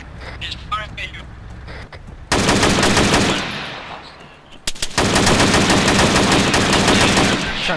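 Heavy automatic gunfire in the video game Arma 3 comes in two long, loud, rapid bursts with a brief lull between. Voices talk underneath.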